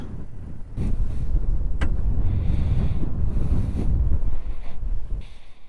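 Gusty wind on Île Madame, a French island, buffets the microphone with low rumbling blasts, loud and close, rising and easing over a few seconds.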